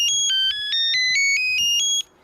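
An electronic carp-fishing bite alarm sends out a fast run of clear, loud beeps that step between several pitches, close up, for about two seconds before it stops.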